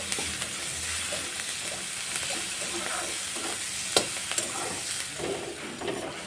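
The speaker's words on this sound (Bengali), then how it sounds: "এবার সব কিছু দিয়ে একটু নেড়ে চেড়ে ভেজে নেবো" Chopped ginger, garlic, green chilli and onion with turmeric and salt frying in a pan, giving a steady close sizzle with scraping stirs and an occasional sharp clink of the spoon.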